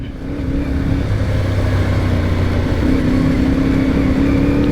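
A CF MOTO 450MT motorcycle rides through mud, its engine droning steadily at a constant tone under wind rush, loud and close throughout.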